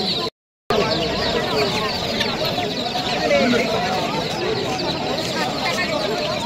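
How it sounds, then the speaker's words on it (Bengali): Fighter chickens cluck at a bird market on Galiff Street in Kolkata, with their calls mixed into a busy crowd of people talking, after a brief silent gap at the start. "এই মুরগিগুলোর নাম হচ্ছে ফাইটার মুরগি।"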